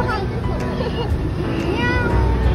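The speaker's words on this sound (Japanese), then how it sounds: "かわいい猫ちゃんがいました。" A cat meowing inside a local satay restaurant, with a few short mews heard over a busy background of people talking and clattering.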